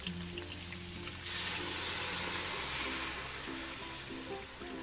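Hot rendered pork fat sizzles in a pan, then a burst of loud hissing and bubbling as water is poured in, settling back to a steady sizzle.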